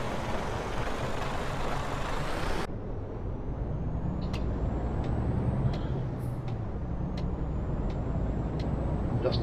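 An Iveco Stralis truck in Euro Truck Simulator 2, engine droning steadily with a loud air-brake hiss at the start, then a sustained rumble with faint clicks.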